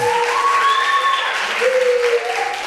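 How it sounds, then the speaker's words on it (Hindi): Steady, loud applause from a crowd in an art council hall in Gujranwala, Punjab, continuous throughout, with a voice calling out over the clapping. "अब तालियां"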